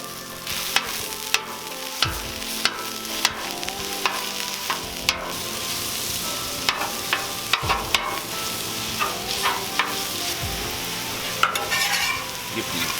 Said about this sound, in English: grease for my sausage is gonna run this way. Store-bought breakfast sausage.